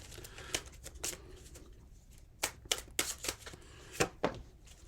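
Tarot cards being shuffled by hand, a series of quiet, close riffling bursts and soft slaps at irregular intervals, heard alone with no talking.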